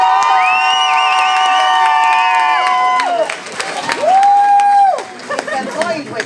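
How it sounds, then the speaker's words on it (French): Crowd at the Miss Yonne 2024 pageant cheers and claps for a candidate while bright music with sustained tones plays loudly over it, with scattered whoops and a voice briefly heard. "On peut continuer d'applaudir pour la candidate numéro 8."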